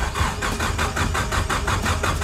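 Car engine with a freshly repaired ignition coil pack cranks in a steady, even rhythm, with rapid repeating pulses churning throughout at a fairly loud, close level and no clear catch into an idle.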